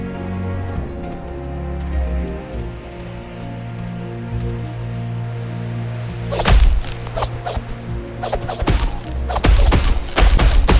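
Heavy thuds and sharp cracking impacts as rocks are attacked and destroyed in Dragons: Legends of the Nine Realms, a cluster of hits in the second half over game music.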